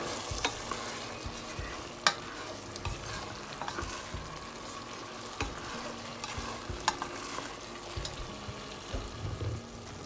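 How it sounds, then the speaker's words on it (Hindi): Moong dal fries in a hot pan while a spoon stirs it, giving repeated scraping strokes with sharp clacks over a soft, steady sizzle, close and without voices. "तो दाल की बुनाई हो रही है यहाँ पे"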